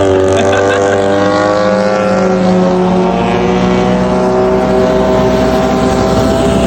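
A Yamaha R15 motorcycle cruises steadily on a long road trip, its engine droning loud and constant with heavy wind rush from the moving ride.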